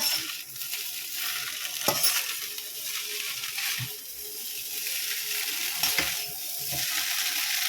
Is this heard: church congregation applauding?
no